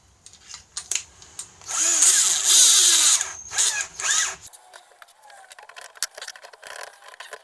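A power drill bores out a screw during a drill chuck replacement, whining loudly for a couple of seconds in a few bursts, then giving way to quieter scraping and clicking handling noise.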